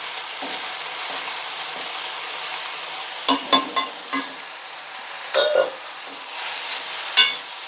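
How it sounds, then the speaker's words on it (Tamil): Fresh mint and coriander leaves sauté in a hot kadai for chutney, a continuous soft sizzle punctuated by several sharp clinks and scrapes of stirring, close up and without speech. "நல்லா சேர்த்து ஒரு 2 நிமிஷம் வதங்கிச்சுன்னா போதுங்க."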